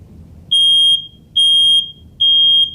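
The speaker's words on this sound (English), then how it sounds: "smoke activates the smoke alarm" Smoke alarm in a room fire demonstration sounds three loud, shrill electronic beeps, each about half a second long and evenly spaced, over a low rumble of fire.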